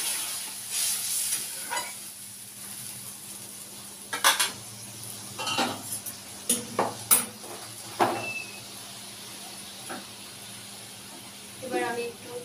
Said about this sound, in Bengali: হয়ে গেছে, এটা গরম জল দিয়ে দিলাম।